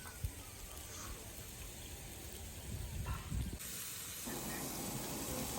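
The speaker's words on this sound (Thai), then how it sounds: "ฟังเสียงสามชั้นดาดกับกระทะครับผม" Steady hissing sizzle of pork belly frying on a hot pan, continuous and close, with the level swelling briefly midway before settling.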